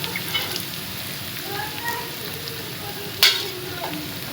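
Chopped onions browning in ghee in a home kitchen pan while minced meat is being roasted, giving a steady, close frying sizzle with a brief sharper crackle near the end.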